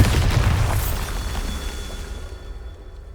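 Bombarda blasting spell from Hogwarts Legacy: a loud, close deep boom that erupts at once and rumbles away into a fading tail over about three seconds.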